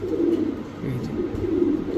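Soft, low pigeon cooing carries on continuously, close and muffled, with no other sounds standing out.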